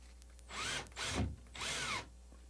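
Three short bursts of a small cordless drill driving screws into a hard plastic shower curtain rod flange, each whirring run ending abruptly, close by and moderately quiet.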